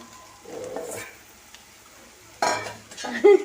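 Masala with pepper powder being stirred in a pan on low heat, a spoon scraping and clinking against the metal over a soft sizzle, with brief voices in the background.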